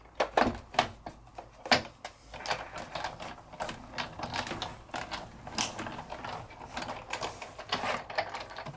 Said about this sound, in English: Send it through my Big Shot machine.